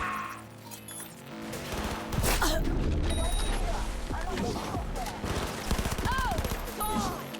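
SMG fire in Cyberpunk 2077, rapid bursts mixed with impacts and crashes in a busy firefight, fairly close, with a voice talking over parts of it.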